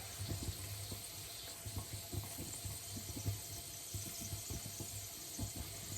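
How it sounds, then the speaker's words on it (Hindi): Boiling water is poured into an old-style water bottle, making a faint, steady trickle with small splashy gurgles throughout. "पानी डालती रहती हूँ"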